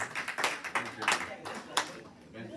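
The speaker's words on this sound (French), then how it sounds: "Applaudissez pour Mr. K." An audience claps for Mr. K at a church gathering, scattered sharp claps in an uneven rhythm at moderate volume, with voices talking underneath.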